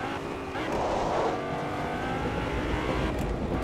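Vehicle driving in the video game Fortnite, a steady motor drone with rising revs and a brief swell, close and continuous for several seconds, with no voices.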